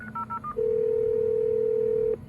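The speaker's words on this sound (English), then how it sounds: "I'll call the Cisco one from the ISDN phone again" A call placed from an ISDN phone to a Cisco phone: a few short dialing tones, then a single long, steady ringback or call-progress tone that holds loud and unbroken for about a second and a half, with no talk.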